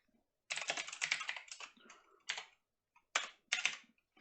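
Fast bursts of typing on a computer keyboard while working at a Linux terminal, clicking keys in quick clusters separated by short pauses, close and clear with no talk.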